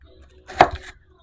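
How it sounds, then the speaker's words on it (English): A knife slices through an onion during home cooking prep for a chicken and vegetable crockpot meal, giving one short, close cut with a crisp burst and a soft follow-through, alone in a quiet kitchen. "Everybody loves to cut an onion, right?"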